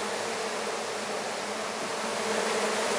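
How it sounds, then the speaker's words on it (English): Honey bees swarming inside a ceiling in Fishers, Indiana make a dense, steady, close buzz that fills the whole stretch without letup, with no voices. "Wow, you can hear them. Yeah, that's a ton of bees."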